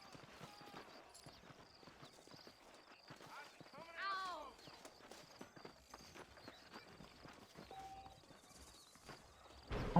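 Horse hooves clip-clop steadily at a walk in the Red Dead Redemption video game, moderately near under a busy ambient bed, with a brief whinny-like call midway and voices talking throughout.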